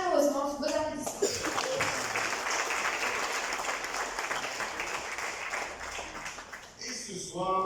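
An audience applauds at a certificate ceremony in Mauritius, a dense burst of many hands clapping that swells and fades, with a speaker's voice briefly before and after.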